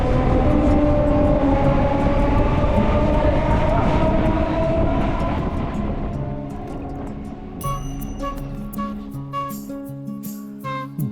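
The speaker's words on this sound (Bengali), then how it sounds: "আমাদের ট্রেনটাও শিয়ালদা স্টেশনে ঢুকছে" A local train running into Sealdah station, a loud rolling rumble with rail screech that fades as it slows, then rhythmic clicking over the joints.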